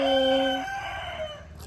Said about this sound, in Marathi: तुम्ही ऐकू शकता कोंबड्याचा आवाज